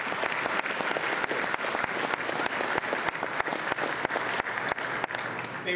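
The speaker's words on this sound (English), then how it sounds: "let's give a round of applause for the home run that Molly just did" A graduation ceremony audience claps continuously through a commencement speech event, a full hall of applause with sharp individual claps standing out in a steady rhythm, no speech heard.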